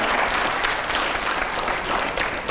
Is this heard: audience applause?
yes